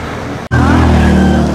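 A car passes close by on a street, a loud broad roar that rises sharply after a brief dropout and holds steady.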